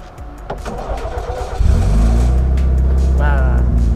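A boosted Daihatsu Charmant engine cranks and catches, then settles into a steady loud idle with a constant whirring extra fan wired to the ignition, while a person talks over it.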